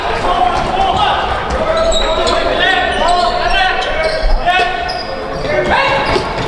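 During an ÍA versus Fjölnir basketball game, a ball is dribbled up the court with repeated bounces under crowd noise, squeaking sneakers and a commentator talking over the action.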